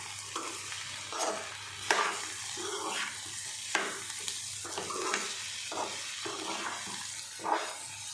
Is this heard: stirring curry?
yes